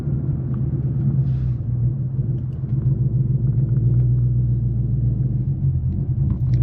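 A car with a Lund Racing Ghost Cam tune idles at a stop, its steady low rumble loping unevenly, loud and close with no talking.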